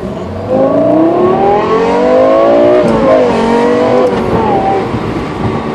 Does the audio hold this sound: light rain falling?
no